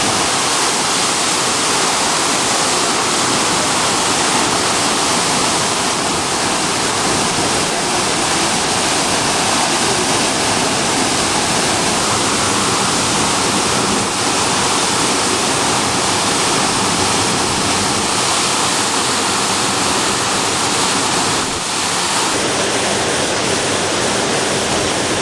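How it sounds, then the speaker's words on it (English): Aravelam waterfall in Goa, India, thunders continuously with a loud, dense, unbroken roar of falling water close at hand, steady throughout with no voices. "Just the roar of the water is just deafening"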